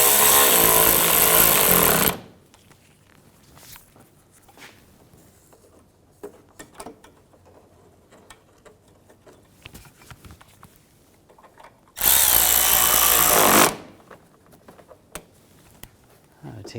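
A power tool tightens headlight screws on a 2006-2010 BMW 550i in two loud, rattling bursts about ten seconds apart, each lasting around two seconds, with quiet handling clicks between them.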